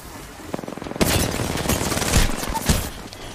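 Rapid automatic gunfire bursts loudly and continuously in an Apex Legends match, dense overlapping shots with a few heavier impacts, with no talk over it.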